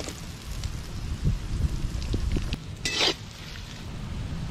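Onions sizzle and fry in a pan for a village-style duck roast, with a steady crackling hiss, a few soft stirring knocks and a brief louder scrape near the end.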